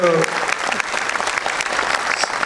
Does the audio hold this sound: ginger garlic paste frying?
no